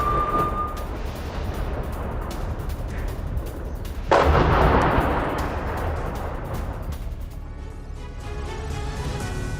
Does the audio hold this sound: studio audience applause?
no